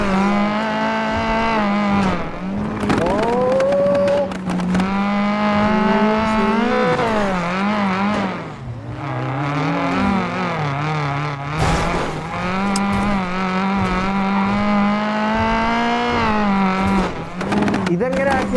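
A video game car revs up hard and then falls away as the accelerator is let off, its engine pitch sweeping up and down repeatedly under near-constant talking.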